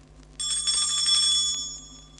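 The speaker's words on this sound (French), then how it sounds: "Elle fera tinter ses petites cloches comme ceci." Tinker Bell's little bells chime as a page-turn signal on a 1970 Disneyland record of The Aristocats, a bright ringing tinkle that starts suddenly and holds for about a second before fading over low background hum.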